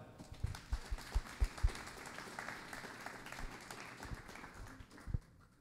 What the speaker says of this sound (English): Could we all give a round of applause for them?